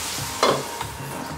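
Onions and chili cooking in a pan for a salmon curry, a soft steady sizzle with a brief louder scrape of stirring partway through, close and otherwise quiet.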